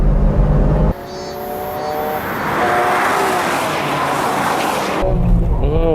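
A race car accelerates out of a corner at Fuji Speedway, its engine note rising in a sustained roar with an abrupt cut from onboard to outside sound. A voice talks faintly underneath.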